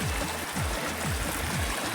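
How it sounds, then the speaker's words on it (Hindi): Mountain streams and waterfalls in the Himalayan hills rush in a steady, even, broad hiss of flowing water, heard at a moderate distance with no voices. "ये अभी झरने भी बह रहे हैं"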